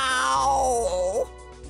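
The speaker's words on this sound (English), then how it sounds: "Meow." A single drawn-out cat meow voice line from the video game Brawl Stars, loud and close, sliding downward in pitch and ending with a short upward inflection.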